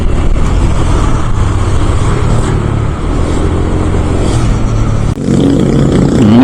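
Motorcycle on a solo ride from Bekasi toward Puncak via Jonggol, engine accelerating steadily along an open road, a loud continuous roar with wind rush and a brief dip near the end.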